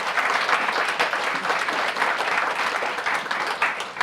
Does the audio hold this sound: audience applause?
yes